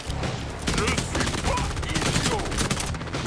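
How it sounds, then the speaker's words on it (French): Rapid automatic gunfire from a machine gun in the Borderlands video game, dense and continuous bursts with overlapping shots and game effects throughout, loud and close. "je vais tester la mitraillette"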